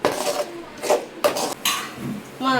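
A spoon stirs thick masala in a metal cooking pan while the oil separates, producing repeated scraping strokes and clanks against the pan, loud and close, with no talk.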